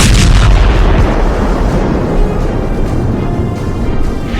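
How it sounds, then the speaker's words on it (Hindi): A loud, heavy blast hits at the start as a passing car explodes, followed by a rumbling roar and debris-like noise that slowly settles. "एक कार गुजरती है और फिर होता है धमाका"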